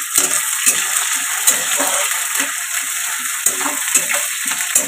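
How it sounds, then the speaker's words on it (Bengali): Chopped onion sizzles and fries in a pan for a home-style chicken curry, a steady hiss broken by intermittent clinks and scrapes of stirring. "তারপরে দিয়ে দিচ্ছি পেঁয়াজ কুচি"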